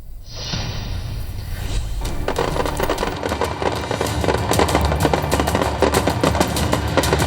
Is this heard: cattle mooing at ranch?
no